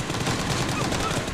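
Dense, rapid gunshots in a PUBG team deathmatch, a continuous loud volley of fire with no pauses.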